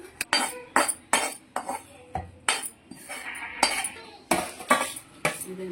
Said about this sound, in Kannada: ನಾನು ಮಿಕ್ಸಿ ಜಾರಿಗೆ ಹಾಕೊಳ್ತಿದ್ದೇನೆ